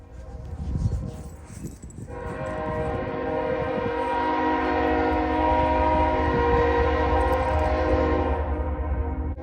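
A train horn sounds in Cordele, Georgia, followed by a train passing close by, with a long, loud, steady rumble and a sustained tonal horn that carries through most of the stretch after an opening burst of noise.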